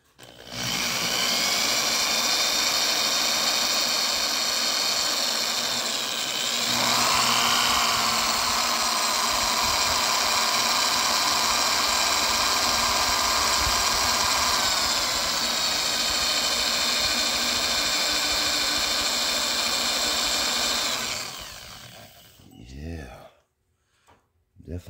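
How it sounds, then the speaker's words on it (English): A cheap drill bit grinds steadily into a cylinder head stud on a Vortec head, a loud continuous whine with shifting pitch that runs about twenty seconds, then stops abruptly and leaves brief clatter. "I want to see how it's cutting into that stud."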